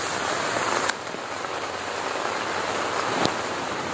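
Heavy rain drums steadily on a tent roof during a storm at a Thailand cycling campsite, a dense continuous wash of patter with no voices.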